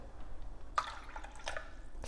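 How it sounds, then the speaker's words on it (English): Cold boiled water poured into a hummus mixture with lemon juice, a few short close wet splashes and drips that stand alone against quiet background. "70 ml of boiled water,"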